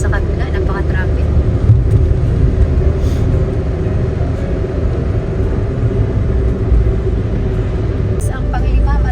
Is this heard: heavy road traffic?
yes